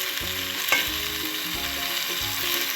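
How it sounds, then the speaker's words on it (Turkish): Potatoes and tomato paste get stirred in a frying pan over a loud, steady sizzle, with rhythmic scraping strokes of a spoon dragging through the mixture roughly every half second. "Şimdi karıştırmaya devam ediyoruz"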